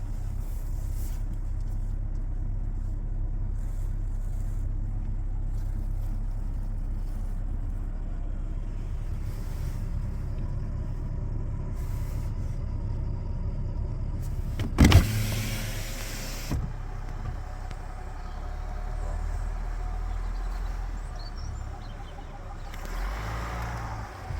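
A Range Rover crawls off-road at low speed, its engine a steady, low droning rumble heard from inside the cabin, broken once midway by a brief knock and rattle.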